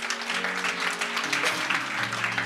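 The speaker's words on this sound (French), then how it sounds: "You can clap for Jesus." An audience at a women's church conference claps for Jesus, dense continuous applause mixed with music, steady and loud throughout.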